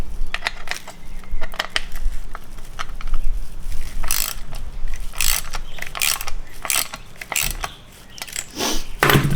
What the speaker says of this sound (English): This is the mechanism and the springs that we were doing with a screwdriver that the airbag snaps into.